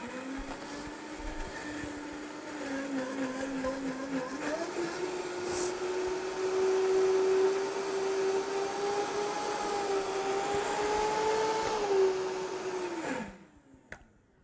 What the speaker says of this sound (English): And let's blend.